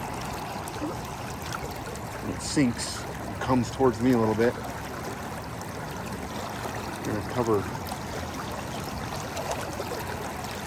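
Fast-flowing stream current where a man is fishing, a steady rushing wash running continuously beneath his nearby talking.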